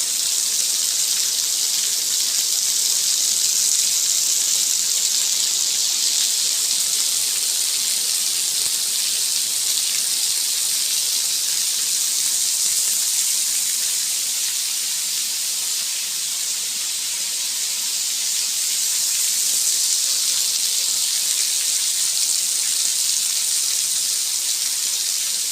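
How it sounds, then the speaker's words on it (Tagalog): Steady, dense roar of heavy rain pouring down continuously, a loud broadband hiss that barely changes throughout. "sa lakas ng ulan"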